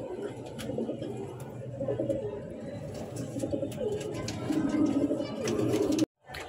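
Coloured Golla pigeons coo in a low, continuous murmur with scattered chirps, close and fairly steady, before cutting off abruptly near the end.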